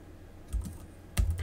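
Two soft keystrokes are typed on a computer keyboard while a password is entered at a voice router's configuration prompt, faint and close against quiet room noise.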